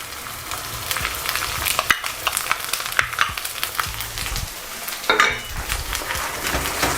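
Tomatoes and green chili frying in a pan for chicken karahi, a steady bright sizzle with sharp clinks and scrapes of stirring scattered throughout, close and fairly loud.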